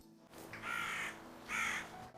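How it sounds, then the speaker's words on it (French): A crow caws twice in a row, two loud harsh calls close by, outdoors at an overgrown abandoned Swedish farm, with faint background hiss between them. "Corbeau."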